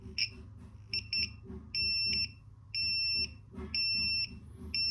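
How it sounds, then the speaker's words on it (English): A 5-volt buzzer wired to an Arduino beeps in bursts: a few short chirps, then three longer sustained tones, loud and near over low background hum. "So this is a 5-volt buzzer"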